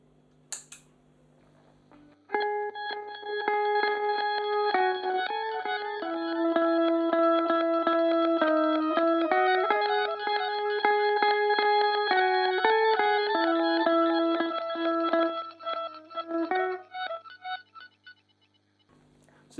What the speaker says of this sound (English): right now it's set to where it's going to play backwards